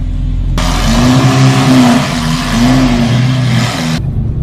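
A Lamborghini Aventador engine drones loudly and steadily while driving at low speed, with a rising and falling rev tone swelling twice over a constant road rumble and no talk.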